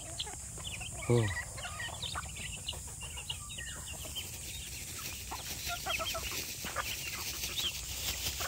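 Several chickens and twelve chicks cluck and peep in a backyard flock, with one louder nearby squawk early on and a steady murmur of soft clucking throughout, no talking.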